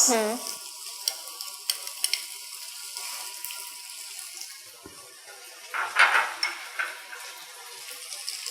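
Chili sauce poured over frying honey chili potatoes, with metal spoon clinks and scrapes against the pan over a low, crackling sizzle, plus a brief pouring gurgle partway through.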